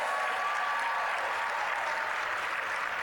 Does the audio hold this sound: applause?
yes